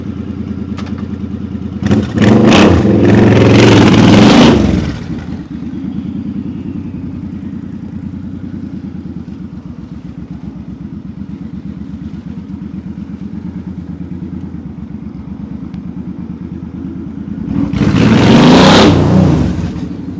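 A Suzuki Boulevard M50 motorcycle with about 4,800 miles on it idles with a steady low thrum, then its engine is revved hard in loud bursts near the start and again near the end, as if riding off, close by.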